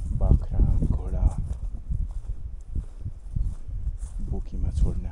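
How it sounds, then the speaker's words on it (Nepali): Cows, goats and horses walk along a path, their hooves clip-clopping in an uneven, scattered rhythm, with people talking over them. "गाई बाख्रा घोडा"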